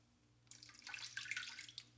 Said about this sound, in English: shake that in the water and clean it off good